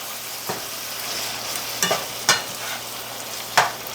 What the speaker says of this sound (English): All those onions and garlic and stuff cooking out right now.